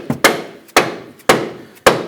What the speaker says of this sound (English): Now I'm using a rubber mallet or a dead blow